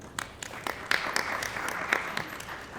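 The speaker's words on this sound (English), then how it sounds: "all of you who applauded were right" An audience at a live stage play applauds, a steady wash of many hands clapping with sharper individual claps popping out, moderately loud and continuous.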